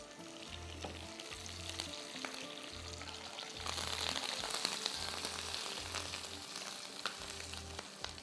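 Green chillies frying in hot oil in a kadai with the flame switched off, a steady close crackling sizzle with occasional stirring, no voices.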